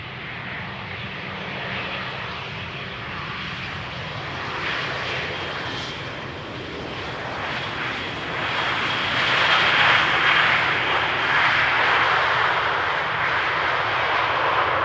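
An Aer Lingus airliner arrives at Amsterdam Schiphol on runway 18R, its engines a loud, steady roar that swells as it passes close overhead, heard alone.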